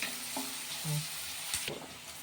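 Sliced onions frying in a pan for chicken curry crackle and sizzle under steady stirring, the spoon scraping and clinking against the pan close by, with no talk.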